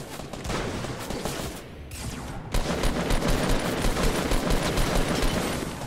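Rapid bursts of shotgun and automatic gunfire in the video game Fortnite crackle almost nonstop and loud, with a short lull before a denser barrage resumes.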